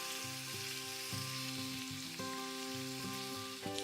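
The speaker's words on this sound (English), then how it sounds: "going to pop my pancetta onto an oiled saucepan" Medallions of pancetta fry in an oiled saucepan, giving a steady close sizzle and crackle throughout with small pops.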